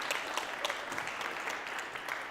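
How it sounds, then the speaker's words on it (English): Audience applause at an open-source conference talk in a ballroom, steady dense clapping from a seated crowd lasting a couple of seconds without any voices. "Guys, let's give him a round of applause."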